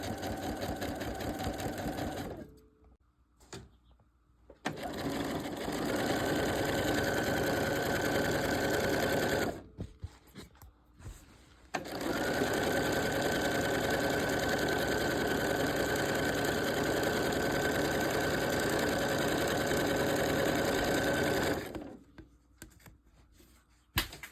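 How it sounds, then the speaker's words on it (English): Sewing machine fitted with a walking foot stitching thick fabric for a dog bed, running in long steady bursts with brief pauses between stretches, loud and close. "So the walking foot is just fabulous to use, and you don't want to sew over your clip"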